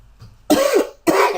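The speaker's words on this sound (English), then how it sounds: "Excuse me for coughing in your ear." A person gives two harsh, loud coughs close to the microphone, about half a second apart, with a faint breath just before them.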